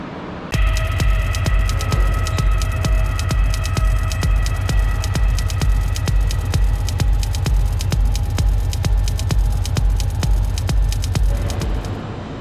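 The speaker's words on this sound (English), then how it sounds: "Now we're gonna throw it in a vise or in between two wood blocks and weld the inside" An aluminum downpipe merge is welded on the inside, giving a steady, close electrical hum and buzz with rapid regular pulsing and crackle that runs almost unbroken for about eleven seconds, with no speech.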